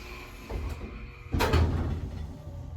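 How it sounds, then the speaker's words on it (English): The door of a Dover Oildraulic hole-less elevator slides shut with a short thud, followed by a low, steady buzzing hum in an otherwise quiet indoor space. "Door doesn't sound good, it's like buzzing."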